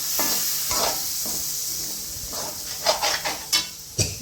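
Vinegar simmers in a pan for garlic pickle, with a steady hiss and sizzle broken by several close, sharp clinks of a spoon stirring against the pan.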